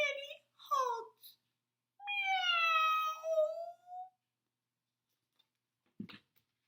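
A human voice imitates a cat, giving a drawn-out, clear meow after a few short spoken sounds, followed by silence and a brief soft knock.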